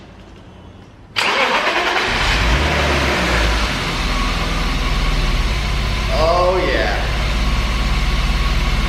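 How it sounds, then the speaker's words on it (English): A BMW E34 with an M50 engine cranks and fires after a quiet moment, then settles into a loud, steady idle close by, with a brief whine partway through and a short spoken remark. "And that is a normally idling M50."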